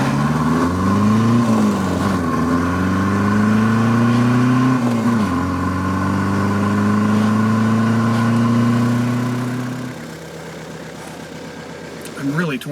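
An old car with a cooling problem driven on a test run, its engine droning steadily and shifting pitch as it speeds up and eases off, loud and close inside the cabin, fading toward a quieter idle at the end.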